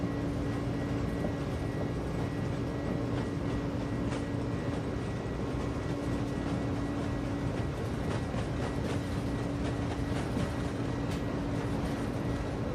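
Airbus A300 engines roar through a takeoff roll in a flight simulator, a steady, loud, broadband drone with a constant whine and faint clicks, holding level throughout with no talking.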